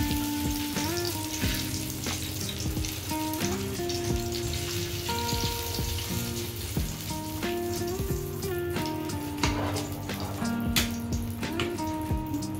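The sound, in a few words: egg frying in hot oil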